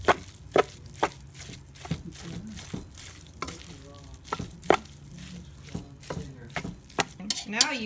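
Salt is stirred into homemade paneer with sharp spoon knocks and scrapes against the pot, spaced irregularly over a faint background hiss, close up with no talking.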